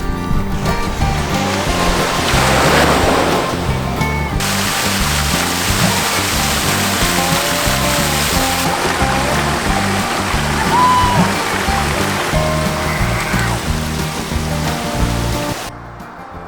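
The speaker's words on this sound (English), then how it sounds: "We had a quick pit stop at Blackbrook Cove Beach, which is a beautiful beach with a waterfall." Surf washing onto Blackbrook Cove Beach in Nova Scotia alongside a waterfall, a steady loud wash of water throughout with no talking, briefly louder near the start and dropping away at the end.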